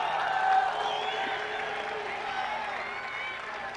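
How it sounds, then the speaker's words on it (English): A large stadium audience at a 1989 Hall of Fame induction ceremony applauds in a sustained, even wash of clapping and crowd noise, strongest at the start and easing slightly toward the end. "I want you clapping for me."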